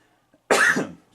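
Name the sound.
man coughing and clearing his throat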